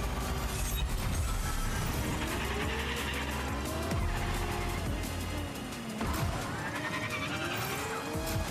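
A race car in Fortnite Rocket Racing auto drifts, with its engine roaring steadily as the tires squeal in long, rising and falling sweeps through repeated slides, loud and close throughout.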